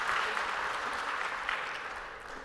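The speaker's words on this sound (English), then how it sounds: "could we have a round of applause for these sponsors?" Steady applause from a conference keynote audience at a CNCF cloud computing event in China, a continuous wash of clapping holding at an even level throughout before easing slightly near the end.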